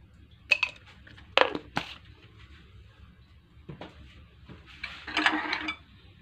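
Pork being mixed by hand or spoon with fish sauce and seasoning powder in a bowl, giving a few scattered clinks and scrapes against the dish, with quieter rustling between, close by and without talk.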